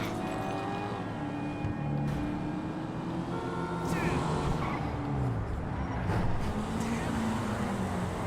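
Engine of an Invetero Coquette D1 old classic car driving in GTA Online, a steady revving drone with shifting pitch and tire noise, with someone talking over it.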